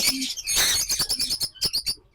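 Shrill, chattering ringneck parrot calls come in quick overlapping bursts at a parrot farm, squawks and chirps tumbling over one another, ending with one sudden loud screech.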